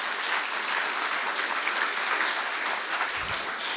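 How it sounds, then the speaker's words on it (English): An indoor audience at an evening talk gives a moderator steady, dense applause, many hands clapping together without a break for a few seconds. "Quick round of applause for our moderator tonight,"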